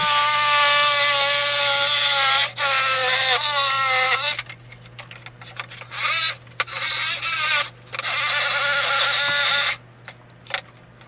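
A power tool cutting a wooden board for a model railroad layout, a loud sustained whining motor with shifting pitch that cuts off and restarts in several short bursts, close and without talk.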